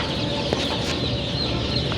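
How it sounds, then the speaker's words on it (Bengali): Tiger chicken chicks chirp and peep together in a dense, continuous chorus inside a poultry shop, close and fairly loud, with no talking. "অরিজিনাল টাইগার মুরগির বাচ্চা"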